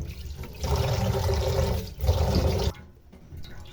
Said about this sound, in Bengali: আলু আর বেগুনগুলো প্রথমে ধুয়ে নিচ্ছি।